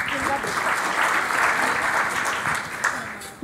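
Audience applause fills a conference panel hall in Sopot, steady and dense for the whole span, with a few faint voices underneath before it tapers off at the end.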